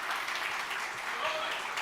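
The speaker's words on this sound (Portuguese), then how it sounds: "Salva de palmas aí pro Vini, pessoal." Brief burst of audience clapping at a PHP community conference talk, a dense steady patter of many hands, moderately faint and short.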